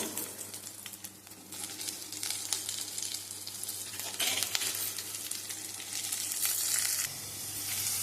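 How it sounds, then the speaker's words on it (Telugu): Onions sizzling and frying in a pan, a steady close crackling hiss with occasional stirring scrapes, a low hum beneath and no talk. "ఇప్పుడు ఆనియన్స్ వేసేస్తున్నాను"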